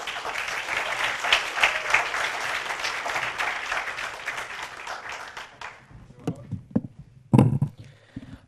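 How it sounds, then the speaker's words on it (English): An evening audience applauds a student presenter from Iraq at an indoor event, a dense burst of clapping that fades after about five seconds into scattered claps, a few knocks and faint voices. "Let's give him a round of applause."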